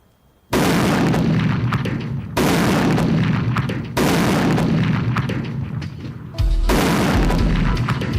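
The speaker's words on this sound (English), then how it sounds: "This is what 8 pounds of explosive looks like when it goes off." Four loud, close booming blasts from a range detonation of 8 pounds of explosive, each striking suddenly and rumbling on for over a second before the next.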